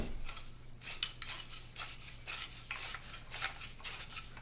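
Threaded metal end of a pipe clamp being turned by hand, producing a steady series of rasping, scraping metal-on-metal strokes, close and fairly quiet over a low constant hum, with no talking.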